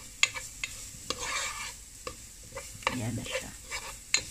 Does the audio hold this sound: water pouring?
no